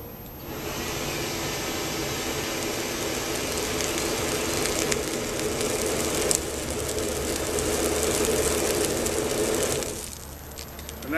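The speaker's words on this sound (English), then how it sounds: "I'm gonna put the blower on low" A blower runs on its low setting to feed air into a homemade backyard metal-casting foundry furnace, giving a steady roaring whoosh that holds nearly constant for about ten seconds before easing off.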